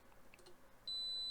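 A faint, steady electronic tone from a multimeter continuity test on a ham radio end-fed antenna comes in and holds continuously after a quiet moment of low background hiss.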